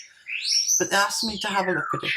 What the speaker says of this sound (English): Please excuse the noise of the birds.